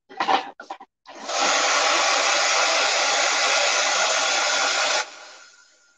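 A handheld hair dryer blowing on fresh craft paint on a wooden flamingo porch sign, a loud steady close whoosh running about four seconds after a couple of brief starts, then cutting off with a fading tail.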